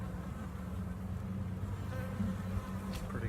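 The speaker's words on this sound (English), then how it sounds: "The bee's temperament's pretty good today." Honey bees buzz densely at an open beehive during an inspection, a steady close drone of many wings with a few individual bees passing nearer.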